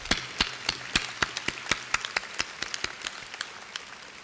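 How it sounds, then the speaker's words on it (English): Sparse, scattered hand claps ring out, a small group clapping unevenly rather than a full roaring ovation. "Let us give them a round of applause."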